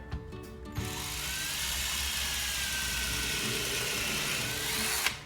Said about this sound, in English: I'm going to drill one maybe a little bit higher.